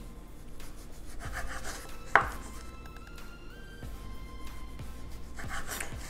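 A knife saws through sandwich crust on a board, with close, quiet rasping strokes and one sharper tap, and no talking.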